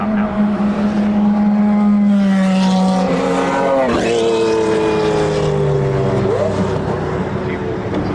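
A McLaren F1 GTR race car at a track day session, its engine note loud and close with rising and falling pitch as it drives past, voices talking over it.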